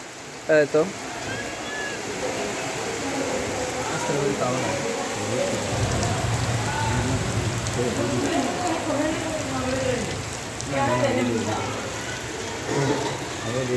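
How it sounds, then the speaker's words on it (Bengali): Steady rain falls outdoors on an exam day, a broad continuous wash of drops on surfaces that holds through the whole stretch with a faint swell in intensity; a voice speaks over it. "বৃষ্টি ধীরে ধীরে একটু জোরে আসা শুরু হয়েছে"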